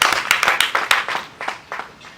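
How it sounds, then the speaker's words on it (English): An audience at a district community gathering claps in a scattered burst of individual hand claps that thins out and fades over about two seconds, with no talk over it. "Can we clap for ourselves?"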